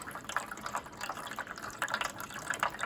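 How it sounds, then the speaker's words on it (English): Water pours down a steep stream table model, making a continuous close trickling and splashing flow with small uneven gurgles throughout. "it's pouring about the same amount of water"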